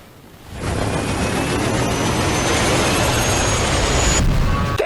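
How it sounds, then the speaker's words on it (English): A PS4 Pro console fan spins up on power-on, a loud steady broadband roar like a jet that starts within the first second, holds level and then cuts off near the end. "the PS4 Pro sounds like a wounded animal in a crashing helicopter when it turns on"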